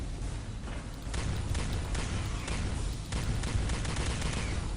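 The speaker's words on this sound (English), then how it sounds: "Machine guns in Star Trek, who knew?" Machine gun fire in the Star Trek: Elite Force II video game, a dense continuous rattle of rapid shots with periodic sharper bursts, steady and loud with no talk.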